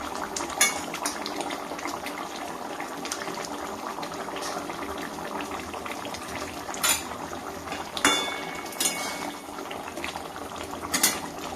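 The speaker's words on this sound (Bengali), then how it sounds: "এই যে মাছটা ফুটছে" A fish curry bubbles gently in a pot, a low continuous simmer punctuated by a few short clinks of a spoon or utensil against the pot, no voices.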